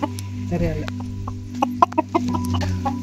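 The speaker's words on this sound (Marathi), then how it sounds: "कोंबडी" A chicken clucks in short, separate bursts close by, over a low steady hum and faint background sounds.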